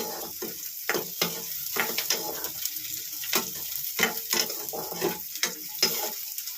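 Chana dal and urad dal fry in hot oil for a ridge gourd chutney, a continuous crackling sizzle broken by repeated scraping strokes of a spoon stirring against the pan.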